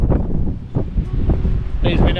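Strong wind at a caravan park roars and buffets the microphone in loud, uneven gusts while a person talks over it.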